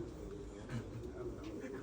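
A pigeon from a prized Chubatiy line gives low, soft cooing, steady through the clip under background noise and murmuring voices.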